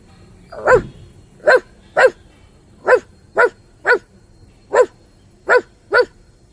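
A person imitates a dog barking, giving nine short, sharp woofs at a loose, uneven pace, close and clear against a quiet background.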